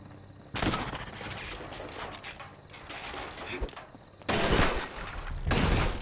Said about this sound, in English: I'm just hearing a bunch of gunshots.